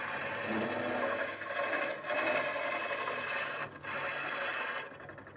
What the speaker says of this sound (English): this walnut is cutting really nicely with a nice sharp tool